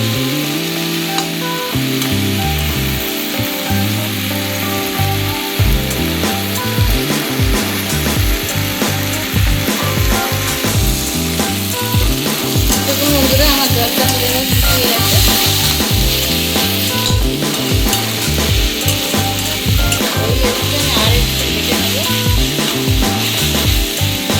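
Drumstick leaves (sajne shak) frying in a pan, a steady loud sizzle with scraping and stirring strokes running throughout, no talking.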